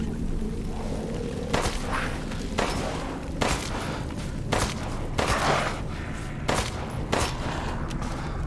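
Repeated gunshots in Resident Evil Village ring out in short bursts of sharp, loud cracks, several spaced a second or so apart over a low rumbling game ambience, with no talking.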